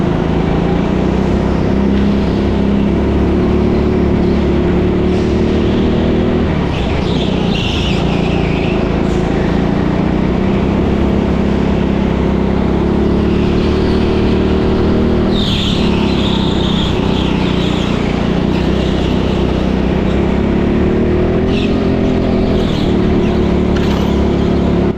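Go-karts race around an indoor TeamSport track in Leicester, a loud continuous engine drone close by that rises and falls as the kart accelerates and brakes, no talk.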